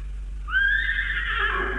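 A single restless horse gives a loud, drawn-out whinny that rises sharply and then trails off over a low steady background hum, with no talking.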